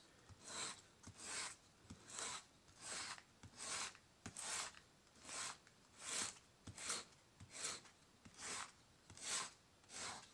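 Coarse-grit sandpaper rasps back and forth over the wooden handle of an Opinel knife, about a dozen steady, evenly spaced strokes, close and clear with no talking.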